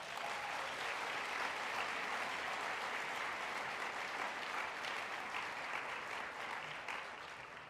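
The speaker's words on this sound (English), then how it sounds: "Give them a big round of applause." An audience at a food-waste solutions event applauds in a dense, even burst of clapping that holds for several seconds before tapering slightly at the end.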